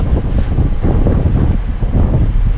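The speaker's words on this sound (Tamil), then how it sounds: "இப்போ இந்த ஸ்பீட்ல போகும்போது என்ன ஆகும் அப்படின்னாக்கா, வெளியில இருக்கிற காத்து எல்லாமே உள்ள வரும்." A moving car with the air coming in through the cabin, heard as a loud, continuous low roar of wind buffeting the microphone with no break and no speech.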